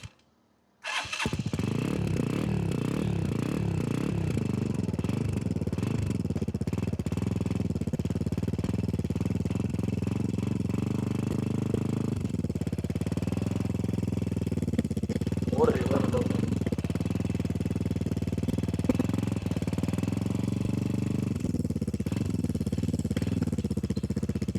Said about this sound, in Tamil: எதிர்பார்த்துட்டு இருந்தேன் இந்த பைக்கில் சத்தம். ஸ்டார்ட் எடுக்க போகிறேன்.